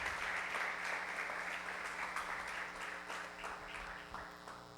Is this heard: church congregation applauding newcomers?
yes